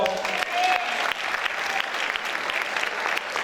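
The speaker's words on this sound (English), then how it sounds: "Can you give yourselves a round of applause?" An audience applauding steadily, a dense wash of clapping hands that holds throughout.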